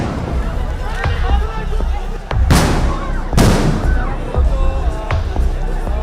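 Police sound grenades explode at a student coffin procession protest march near Begum Rokeya Hall, Dhaka University: two sharp, loud blasts about a second apart cut through a steady, noisy crowd babble.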